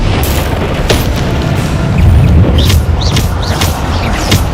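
Bombarda blasting spell in Hogwarts Legacy erupts as a very loud, continuous low-heavy rumble of explosions, with a swell partway through and scattered sharper cracks and whooshing effects over the dense roar.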